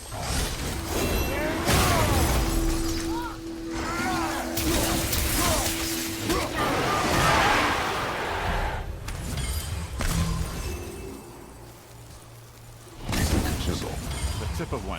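In the God of War video game, a giant chisel clanks with mechanical ratcheting and then strikes and shatters in crashing, debris-filled bursts, with whooshes and game voices mixed through the busy, moderately loud scene.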